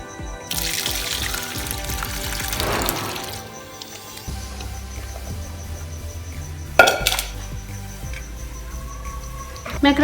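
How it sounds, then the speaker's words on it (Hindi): Water pours and splashes as boiled macaroni is drained in a metal strainer, trickling and draining, with a sharp clatter of a pot partway through and a faint voice briefly. "अब हम इसको छानेंगे, इसका पानी निकालेंगे।"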